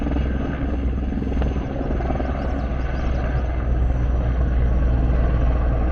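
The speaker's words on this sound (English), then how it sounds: "Here comes another helicopter." A firefighting helicopter flying overhead near water, its steady rotor and engine drone loud and continuous, swelling slightly as it passes.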